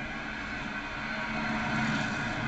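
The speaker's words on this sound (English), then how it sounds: "It's time to show you some of the action from the tough truck competition." A truck engine drones steadily at a 1994 tough truck competition in the Penda Series, a continuous mid-distance roar that swells slightly without pause.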